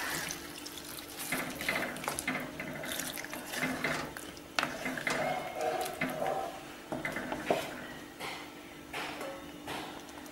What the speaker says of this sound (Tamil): கொஞ்சமாக தண்ணி சேர்த்துக்குவோம்.